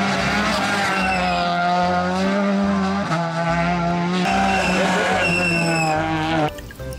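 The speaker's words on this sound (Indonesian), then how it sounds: "Wow, ternyata ini mobil balap." A toy race car gives off a loud electronic racing sound, a revving engine tone with squealing tires that runs for several seconds before cutting off abruptly.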